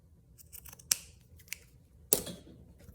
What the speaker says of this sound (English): I need to cut it off a little bit though.